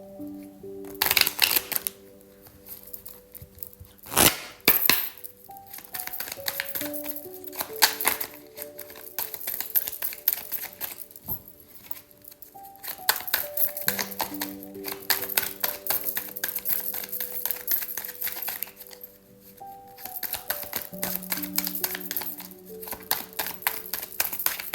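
Oracle cards shuffled by hand in repeated bursts of crisp riffling and flapping, close and fairly loud, separated by short pauses, with soft chiming music tones underneath.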